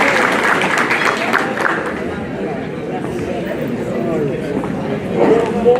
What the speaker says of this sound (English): Please, a big round of applause to them once again.